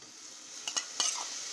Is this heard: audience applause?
no